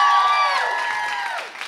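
A live studio crowd at a French-language broadcast cheers and whoops, a brief burst of excited voices rising and falling, loud and close.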